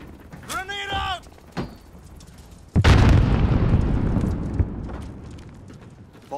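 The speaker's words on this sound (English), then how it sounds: "Grenade out!" A grenade blast in the Call of Duty: Modern Warfare Domination mode lands as one loud, close boom with a long rumbling tail, following an earlier game voice and a couple of small pops.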